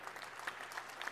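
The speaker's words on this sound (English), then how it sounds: "Let's give a round of applause." Faint applause from an audience at a public event patters softly in the distance, a quiet, even scatter of claps with no voices over it.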